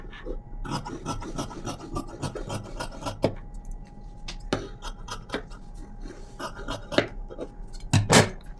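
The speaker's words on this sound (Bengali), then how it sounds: "এখানে আমার পেপার পেস্টিংটা কাটা হয়ে গেছে" Scissors cutting through paper pasting interlining for a shirt collar, a series of close raspy snips and scrapes in irregular bursts, with louder strokes near the end.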